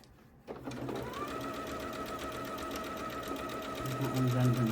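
Sewing machine running a quilt seam on Japanese fabric shadow quilt, a quick click at the start then a steady close whirring stitch that builds slightly louder toward the end, alone without talk.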